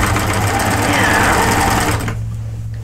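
A sewing machine runs fast and steady while hemming the bottom of a knit garment, a loud close whirring stitch that stops abruptly near the end.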